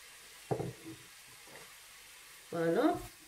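Chopped onion dropped into hot oil, a sudden close sizzle that fades, then another loud burst of frying later, with quiet gaps between.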